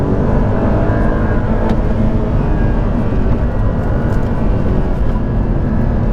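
An Audi R8 with a naturally aspirated V8 engine runs loud and close, a steady dense mechanical roar held at high revs throughout, with no voices.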